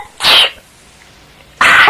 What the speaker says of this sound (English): I've been sneezing all day since I woke up